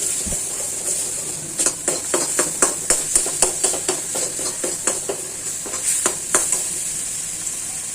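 Spicy egg fry stirred in a pan with ghee and oil, a steady sizzle under a rapid series of metallic spatula scrapes and clinks against the pan, loud and close with no talking.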